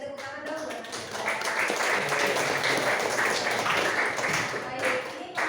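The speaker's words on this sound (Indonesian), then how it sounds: "tepuk tangan dong buat Mas Yuda." Applause from a group in a Catholic church class setting, a steady wash of clapping filling the whole stretch, fairly close and lively, with some voices mixed in.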